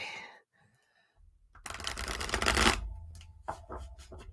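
Playing cards being shuffled: a dense riffle burst lasting about a second, followed by a few softer snaps and taps, close by with no talking.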